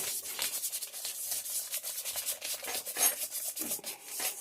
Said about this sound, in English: we'll just whisk it together